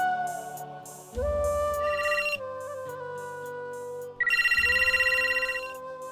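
An electronic phone ringtone plays a tonal repeating melody in bursts with a pulsing buzz underneath, fairly loud and continuous.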